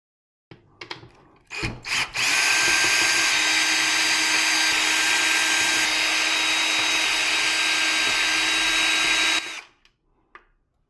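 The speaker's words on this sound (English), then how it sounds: "now it's just a matter of unscrewing this and we're good to go" A powered screwdriver removing screws from the main board of an LG G1 TV. A few quick clicks lead into a steady, close whirring whine lasting about seven seconds, then it stops and faint handling noises follow.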